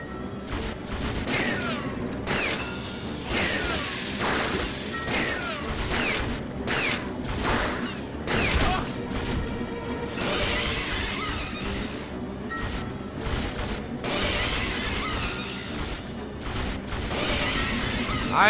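Gunfire in the survival-horror game Resident Evil 0: a dense, loud run of shots and impact crashes fired again and again over the whole stretch, with no pause.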